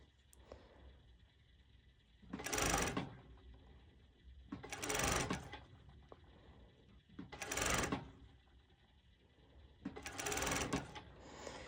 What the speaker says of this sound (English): whilst I'm sewing it, I'm slightly pulling the elastic